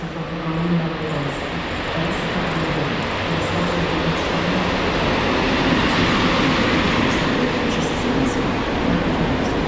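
Passenger train hauled by an EU07 electric locomotive, unit EU07-092, running at a Polish railway station platform, with a loud, steady rumble lasting throughout.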